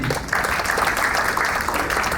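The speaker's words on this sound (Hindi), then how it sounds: "तो सबसे पहले साकिब अजहर साहब के लिए तालियां प्लीज" Audience applause at an ecommerce event in Pakistan, a broad even wash of many people clapping that swells in after a brief quiet start and holds steady, close and full.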